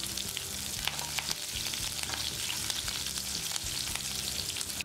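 Mustard seeds, cumin, chopped green chillies and curry leaves sizzle and crackle steadily in hot oil, a dense continuous frying hiss with scattered pops, stirred now and then, with no talk.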